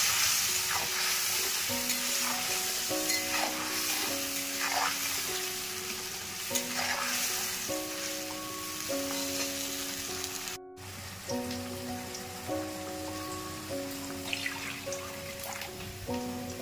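Mustard paste with nigella seeds, green chillies, salt and turmeric sizzles in hot oil, a steady crackling fry close by, with background music playing over it throughout.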